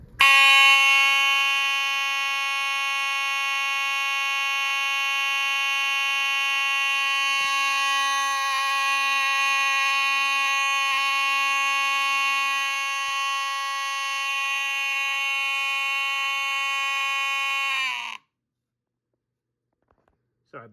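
A Simplex 2901-9846 high output fire alarm horn blares in one loud, continuous buzzing tone for about eighteen seconds, then stops abruptly and leaves silence.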